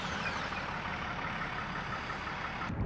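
Chevy Silverado ZR2 truck idling, a steady close engine rumble with a broad hiss, even and unbroken throughout with no clear start.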